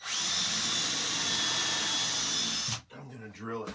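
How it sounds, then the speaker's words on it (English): A power drill whines steadily and loudly close by for almost three seconds, drilling into a cracked piece before it stops, then someone speaks. "gonna drill it first."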